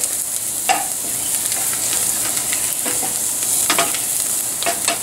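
Onions and spices fry in hot oil in a pan on the stovetop, giving a steady close sizzle with light scraping and stirring clicks throughout, and no talking.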